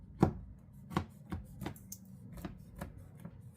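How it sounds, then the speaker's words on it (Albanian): A knife slices through baklava on a tray, making about seven crisp, evenly spaced cuts with a brief pause between each. The pastry crackles close and clear, with no voices. "Tash e bojna pra prerjen"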